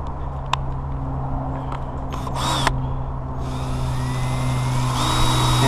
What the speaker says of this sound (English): is just gonna run my drill.